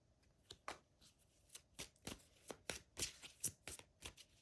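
Tarot cards being shuffled by hand in quiet, a run of about a dozen crisp riffling bursts, close and fairly soft, at uneven intervals with no talking.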